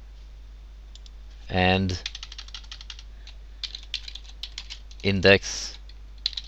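Rapid clicking keystrokes on a computer keyboard while writing an HTML internal link, bursts of close typing spread through the moment, with someone speaking briefly between them.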